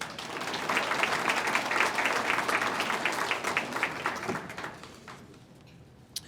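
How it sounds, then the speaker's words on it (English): A university Founders' Day crowd claps for a jazz ensemble in a dense, sustained round of applause that holds steady, then tapers off near the end. "Let's give our jazz ensemble another round of applause."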